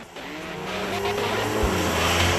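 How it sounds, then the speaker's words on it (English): Porsche 911 Carrera S engine droning smoothly while driving in standard mode, a steady engine note from inside the car that builds slightly in loudness. "The engine runs smoothly and lets you sense its power, with a bit of a drone"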